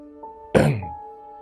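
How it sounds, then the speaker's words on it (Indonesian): A single short, rough throat clearing, close and fairly loud, over a faint steady background hum, on Mount Argopuro. "Dwi mendengar seperti orang yang berdeham tuh. Kayak tadi yang barusan tuh ya."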